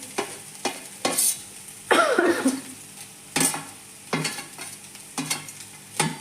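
Avalakki (flattened rice) goes into a frying pan and is stirred, giving rhythmic scraping strokes every half second or so over a light sizzle, with a brief louder rustle as the flakes are added.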